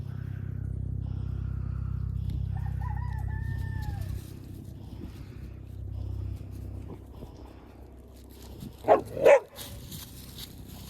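Backyard chickens with a rooster crowing twice over a steady low outdoor rumble, followed by a few loud dog barks close by near the end.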